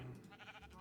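A sheep in the video game Minecraft gives a short, quiet wavering bleat, brief and alone.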